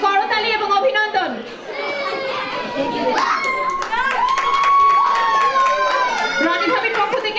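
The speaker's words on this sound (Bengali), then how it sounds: "করতালি এবং অভিনন্দন" A crowd at a Boishakhi celebration in Vienna claps and cheers for the winning couple, with continuous applause mixed with excited shouts and children's voices close by.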